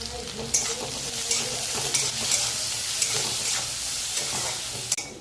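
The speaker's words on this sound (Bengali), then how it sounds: "পেঁয়াজটা একটু ভাজা হয়ে গেছে, এবার তুলে নেবো।" Onion, with salt and turmeric added, sizzling steadily in hot oil in a pan while a utensil stirs and scrapes it, with a few sharp clinks against the metal; no speech.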